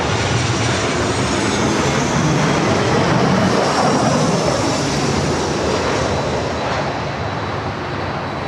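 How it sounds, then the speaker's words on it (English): WestJet Boeing 737-800 arriving at Los Angeles airport, a loud continuous jet roar close by with a rising high whine, dense and unbroken throughout. "This arrival is WestJet 1696 coming in from Vancouver on the 737-800"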